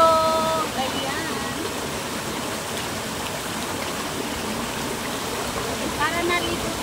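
A river stream flows in a continuous broadband rush, steady and fairly close throughout, with faint brief tonal chirps near the start and end.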